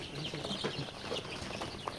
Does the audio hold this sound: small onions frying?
no